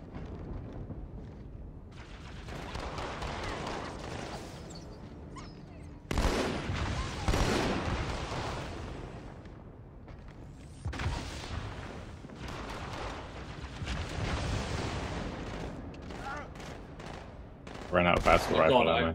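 Battle rifle fire and combat in Halo 2 on Legendary co-op: repeated loud bursts of shots and explosive blasts come in waves, with quieter gaps between the volleys.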